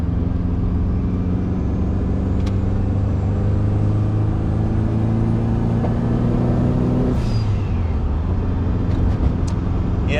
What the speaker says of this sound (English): you can hear the blow-off valve a bit.